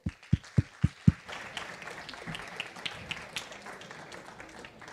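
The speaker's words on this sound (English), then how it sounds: "So give him a huge clap." An audience at a university tech conference in Lisbon welcomes a keynote speaker with applause. It opens with a few loud single claps, then settles into a softer, scattered patter of clapping across the room.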